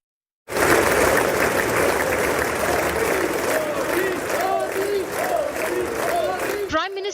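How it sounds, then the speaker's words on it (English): Lawmakers in the US Congress greet India's Prime Minister Narendra Modi with loud, sustained applause and cheering that fills the chamber for several seconds before cutting off abruptly. "The Prime Minister walked into loud cheer and applause as lawmakers welcomed him."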